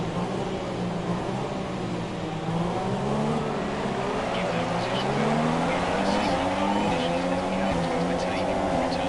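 Engines of F1 race cars in the F1 2017 video game rise in pitch as the field accelerates away from a safety car restart at Bahrain, a steady loud layered drone with a voice talking over it.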